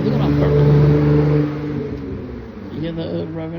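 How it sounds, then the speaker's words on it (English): A car engine revs and hums steadily at low pitch, fairly near and continuous, easing down slightly midway, with someone talking over it. "You hear the revving of the engine?"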